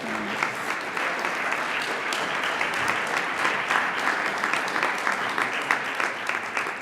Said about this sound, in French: Encore une fois, une bonne main d'applaudissements